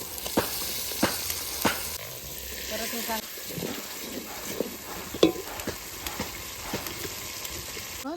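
A ground masala paste of roasted coconut, coriander and onion fries in oil for mutton rassa. It gives a low, steady sizzle broken by sharp spoon taps and stirring, and a person speaks briefly over it.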